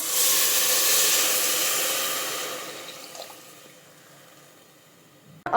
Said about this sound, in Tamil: ஆறு கிளாஸ் தண்ணி சேர்த்தாச்சு